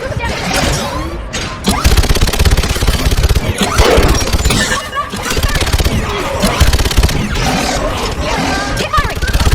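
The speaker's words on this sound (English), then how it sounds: "Keep firing!" Sustained automatic gunfire in the Mass Effect suicide mission, a dense continuous barrage of shots mixed with roaring explosions and game effects, with voices calling out over the din.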